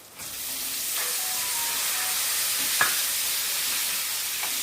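Tomatoes fry in a pan with turmeric, ginger, garlic and onion for a potato curry, a loud, steady hiss of sizzling oil with a few faint scrapes of stirring, close and without speech.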